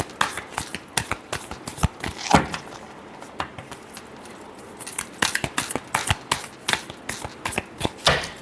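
Tarot cards being shuffled by hand, a close series of quick riffling flicks and papery slaps repeating in uneven bursts, with no talking.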